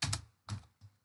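Several short keystrokes on a computer keyboard while C code is written, in three quick clustered bursts of clicks, close and fairly quiet with no voice.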